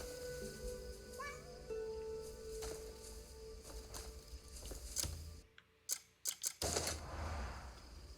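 A cat meows in a game, with a short rising meow early over a background of music and ambient tones, followed by a run of sharp clicks and bursts; no one talks.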